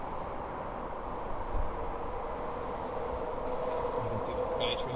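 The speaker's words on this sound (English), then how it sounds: "You can see the SkyTrain too, the public train right there." Vancouver SkyTrain public train passing outdoors, heard from an apartment as a steady broad rumble and rushing hiss throughout, with faint high squeals near the end.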